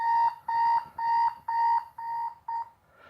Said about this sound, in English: Rainbow Dash turns off the alarm.